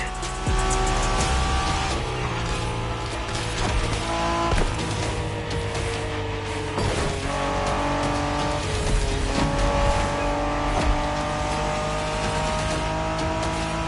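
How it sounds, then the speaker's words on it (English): Japanese street racing cars in the game The Crew Motorfest roar continuously with revving engines, shifting pitch as they accelerate, and occasional tire squeals, loud and close throughout. "We're going for some proper Japanese street racing."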